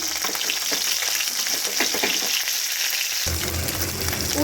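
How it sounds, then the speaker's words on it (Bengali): Small Mourola fish fry in hot oil with a steady, dense sizzle and crackle, close and continuous, while a spatula turns them over partway through, briefly adding a low scraping rumble. "এই মাছগুলোকে আবার উল্টে দিচ্ছি"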